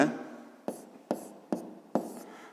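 A pen scratches an answer onto paper in a math exercise, four short, distinct strokes at even intervals, close and quiet.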